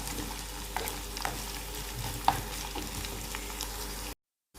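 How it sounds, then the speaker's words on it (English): Onion and curry leaves fry in a pan while being stirred, giving a steady soft sizzle with a few light scraping knocks, ending in brief silence. "you can add the curry leaves and keep stirring it for a minute or two"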